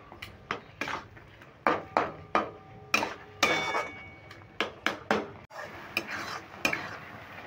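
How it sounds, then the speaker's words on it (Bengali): Kheer with grated coconut is stirred in a pan, with repeated close scraping and knocking of the spoon against the pan bottom in a steady rhythm over a faint sizzle. No one speaks. "দেখো নারকেল কোড়াটা দিয়েও কিন্তু কন্টিনিউ নাড়তে হবে, তা না হলে তলায় লেগে যাবে"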